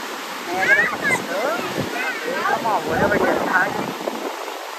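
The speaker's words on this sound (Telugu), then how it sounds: "ఫాల్స్ చాలా వేగంగా సుడులు సుడులు తిరుగుతుంది" Niagara Falls water rushing fast and swirling, a continuous broad roar heard from nearby, with people talking over it throughout.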